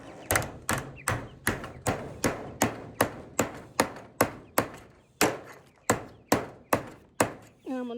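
Metal hinge bar for a chicken tractor being hammered straight: about eighteen sharp, ringing blows in a steady rhythm, each with a short metallic decay, close and loud.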